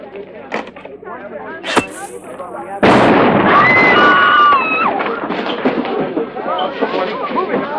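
Bomb blast in a TV crime drama set in a park, a sudden loud broadband burst partway through followed by sustained rumbling roar and debris, with scattered voices and shouts before and after.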